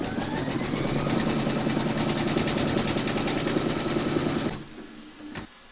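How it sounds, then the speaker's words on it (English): An embroidery machine stitching a koala applique in a hoop hums and rattles steadily with a fast, even needle beat, close and loud, then stops near the end and leaves a brief quieter clunk. "Pop your hoop into your machine and stitch round number 2 to secure them."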